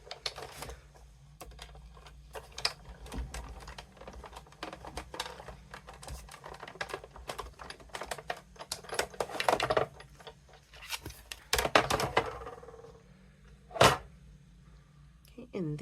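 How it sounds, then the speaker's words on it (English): Sizzix die-cutting machine cranking an embossing folder through with a single cutting plate, heard as a run of clicky, ratcheting clatter and taps that swell near the end, with someone talking over it. "when you're putting your embossing folder through a regular Sizzix machine"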